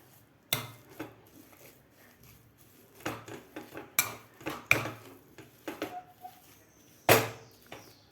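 Boiled potatoes for vada pav filling being mashed in a pan: irregular sharp metallic clanks and taps of a utensil against the pan, spaced out with quiet gaps, close and fairly loud.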